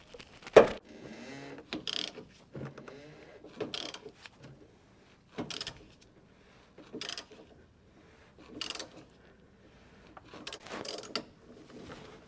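A hand ratchet works the fuel filter cap nut on a 2024 GMC Sierra 1500 AT4X with a 3.0L diesel, giving short bursts of close, crisp clicking separated by pauses and loud metallic clacks.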